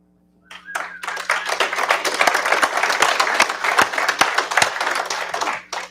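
Audience applause rises quickly after a brief silence at a HOPE for Prisoners evening gathering. Many hands clap steadily and fairly close, holding strong for several seconds before cutting off.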